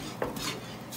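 A spoon scrapes and clinks against a pan while tullumba dough is stirred over a low flame, a short burst of soft metallic scraping.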